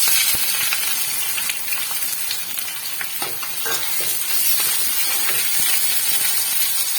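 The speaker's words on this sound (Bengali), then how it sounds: "এবার আমি পেঁয়াজটা দিয়ে দেবো।" Onions sizzle and hiss in hot oil, a continuous close frying sound with scattered crackles and occasional stirring scrapes.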